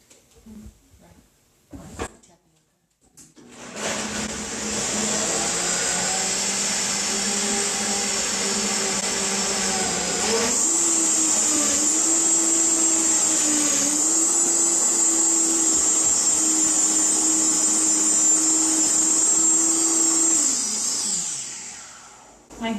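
A Vitamix blender whirs steadily through a batch of vegan cheese with onion, starting up, shifting pitch partway as the load changes, then winding down after about twenty seconds.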